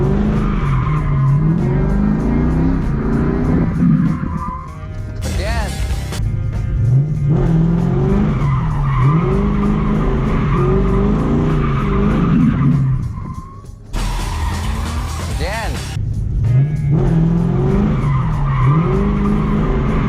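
Ford Mustangs drifting on a track, with repeated long tire squeals and skids over revving engines and two sharp bursts of screeching as the cars slide through corners.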